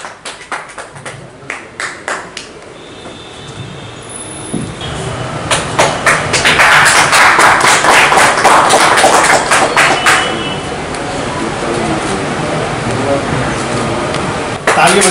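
An audience at a gathering in Darbhanga bursts into loud, sustained applause to welcome guests, a dense wash of many hands that builds up and then holds, following scattered claps and a voice speaking over a public address.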